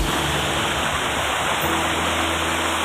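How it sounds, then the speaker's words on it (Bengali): Fast, clear water rushing down a steep, slippery stream in a scenic spot, a loud steady broadband roar that fills the whole clip with no voices over it. "তোমরা বুঝতে পারছো কত স্পিডে জল আসছে"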